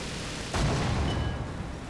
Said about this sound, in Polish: A jeszcze sobie strzela oczywiście.